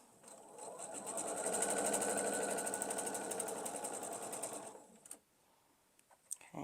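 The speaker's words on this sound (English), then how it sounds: "I am going to sew straight of grain to straight of grain" A sewing machine stitches quilt block pieces together straight grain to straight grain, running steadily for about four and a half seconds before stopping, followed by a few faint clicks and handling sounds.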